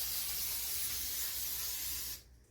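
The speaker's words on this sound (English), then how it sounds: "And then we are going to take our spray butter." A steady spray of aerosol spray butter hisses continuously for about two seconds, close and fairly loud, then cuts off abruptly.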